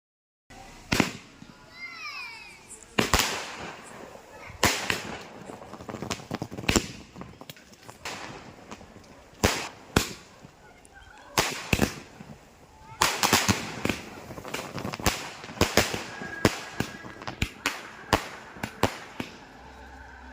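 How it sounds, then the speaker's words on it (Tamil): Bheema brand 30 shot firecracker cake from Kannan Crackers being set off, with a long string of sharp loud bangs at irregular intervals, some crackling and whistling between blasts, heard outdoors. "கண்ணன் கிராக்கர்ஸில் வாங்கின பீமா பிராண்டோட 30 ஷர்ட் தான் டெஸ்டிங் வீடியோ பார்க்க போகிறோம்"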